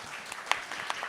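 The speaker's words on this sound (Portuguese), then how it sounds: "Não precisou nem te chamar as palmas, que as pessoas já aplaudiram a sua fala." Brief scattered clapping from an audience applauding a speaker, a few distinct claps over a soft room background.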